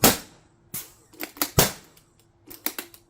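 NOVA NX1 Sentinel pump paintball marker firing: several sharp, close, loud cracks in an uneven rhythm, some in quick pairs, each with a brief mechanical pump rattle between shots.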